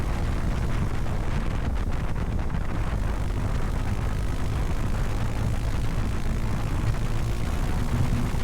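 A 2019 Suzuki KingQuad 400 FSI ATV runs in fifth gear at about 80 km/h over gravel, its engine a steady, unbroken drone mixed with heavy wind rush throughout.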